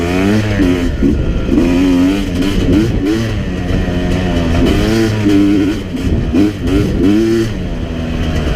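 A 2017 Yamaha YZ250X two-stroke dirt bike rides single-track trail in third gear, its engine droning loud and close with constant small rises and dips in revs throughout.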